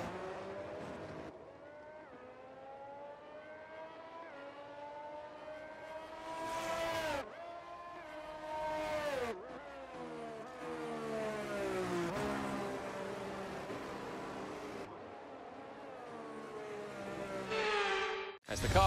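Formula 1 cars in the video game F1 23 on a wet Monaco formation lap, with engines whining up and down through gear changes as cars pass near and accelerate, the revs rising and falling in repeated sweeps.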